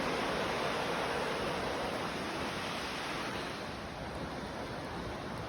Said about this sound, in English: We're right next to the Chattooga River